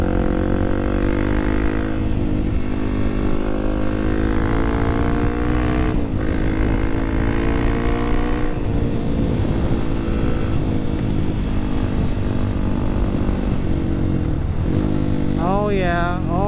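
A motorcycle engine drones steadily under a rider's ride, its harmonic pitch rising and falling as it shifts and accelerates, with brief rising revs near the end and a voice speaking over it.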